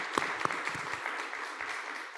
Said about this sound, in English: a round of applause to both Warren and Noah